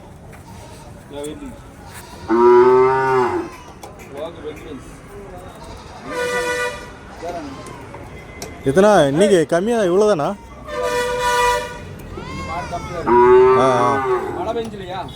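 Calves moo repeatedly in long, wavering bellows, some nearby and loud, with people talking in the background of the busy Kundarapalli cattle market in Krishnagiri district, Tamil Nadu.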